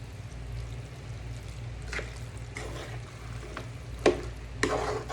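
Spaghetti cooking in a pan, with soft stirring scrapes and a light sizzle over a low hum, marked by a few sharper clinks and swishes near the end.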